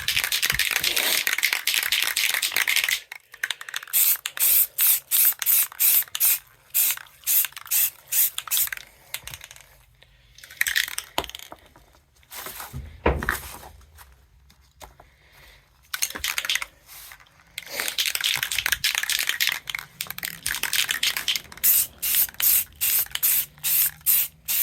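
Light green paint is sprayed from an aerosol can onto a gun in stripes: close, hissing bursts of spray, some long and some in rapid short puffs, with pauses and soft handling clicks between.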